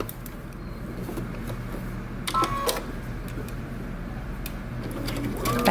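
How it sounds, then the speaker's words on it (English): A sewing machine stitches a shirt dress, humming in a steady, fairly close run with a few clicks partway through. "I'm going to sew until I get to this dot"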